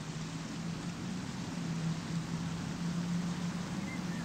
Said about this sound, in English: Let's just enjoy the sounds of the waterfall